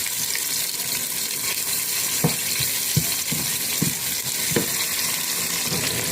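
Onions sizzle steadily in a hot pan for a vegetable dish, with several soft scraping knocks from a spoon stirring them at irregular intervals, close and continuous throughout.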